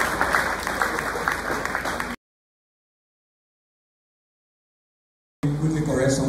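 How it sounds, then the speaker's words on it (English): Audience at a university annual lecture series applauding the director, broad clapping heard in two stretches separated by a gap of complete silence, with some voices mixed in. "Let's give our director a bigger round of applause."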